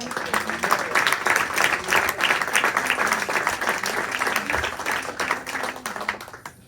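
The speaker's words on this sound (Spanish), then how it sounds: "Den un aplauso fuerte al Señor" A church congregation claps loudly and continuously in a dense wash of applause, with voices mixed in beneath it.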